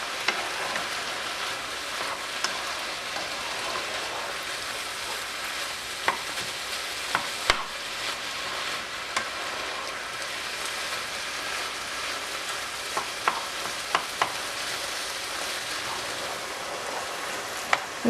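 Meat sizzling in a pan as it nears doneness, a steady broadband hiss that runs throughout with a few sharp pops and clicks, no voices.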